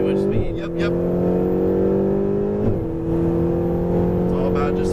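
Lamborghini Huracan Performante engine droning steadily on a race track in Las Vegas, with a brief dip and rise in revs as the driver rolls back onto power, while an instructor talks over it.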